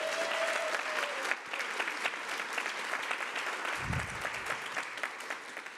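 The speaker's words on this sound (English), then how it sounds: "Can we give them a round of applause?" A hall audience at a Walrus Talks event on gender-based violence claps for several seconds, a dense even patter of many hands at moderate distance with no talking over it.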